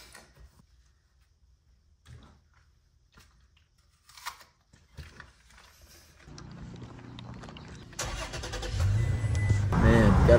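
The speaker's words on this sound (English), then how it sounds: "gotta love LA traffic" Los Angeles city traffic: a quiet start with a few scattered clunks, then a steady car rumble that swells and grows louder and closer over the last few seconds.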